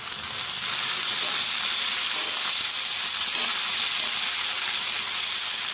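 Green chilies roast in a covered pan over a low gas flame, producing an even, muffled sizzle and hiss that holds steady throughout.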